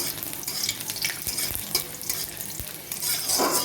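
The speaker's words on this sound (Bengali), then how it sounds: "রসুনগুলো আলাদা ফেলে নিচ্ছি একটু লাল লাল করে ভাজা ভাজা করে তুলে নেবো" Garlic cloves sizzle and crackle in hot oil with kalo jeera in a home kitchen, a steady close frying hiss broken by occasional clinks and stirring scrapes throughout.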